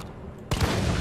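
Gunfire in the Resident Evil 3 Remake video game: a sudden sharp blast about halfway through, followed by a sustained, dense roar of shots and echo that stays loud to the end.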